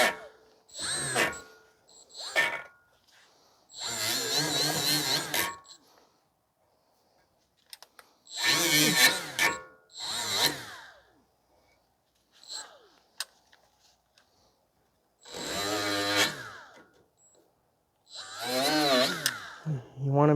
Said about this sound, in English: I'm going to clean all the rust.